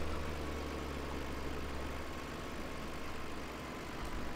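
A tractor engine in the video game Farming Simulator 2013 runs at a steady, even drone throughout, a continuous low hum with no breaks and no talking.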